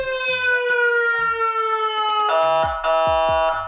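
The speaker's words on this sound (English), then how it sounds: "I guess the question is the siren gonna work?" A loud electronic siren on a custom Mercedes Zetros ride-on toy truck wails with a falling tone, then jumps to a higher, harsher pattern, pulsing sharply and close by.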